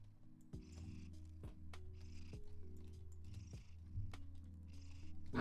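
Steady, low rumbling cat purr, close up, with a rhythmic pulse as each breath cycles in and out, continuous throughout.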